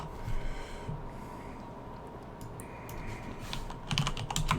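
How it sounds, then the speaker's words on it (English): Light tapping on a computer keyboard in irregular bursts, quiet and close, with a soft breath or snort in between. "I'm just typing it in."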